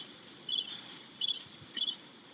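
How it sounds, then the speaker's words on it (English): Crickets chirp in short repeated bursts, a faint high trilling pattern pulsing at an even rhythm with no talk, played as a radio sound effect. "Crickets. I just hear crickets."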